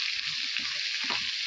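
Asafoetida dropped into hot oil for a tempering gives a bright, steady sizzle, fairly quiet, with a few soft clinks and stirring taps underneath.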